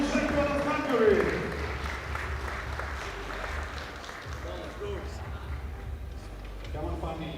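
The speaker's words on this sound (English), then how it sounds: "give a big round of applause for national champion of Hungary" Applause and crowd noise rise at a European open classic powerlifting championship, steady and moderately loud, beneath an announcer's amplified voice.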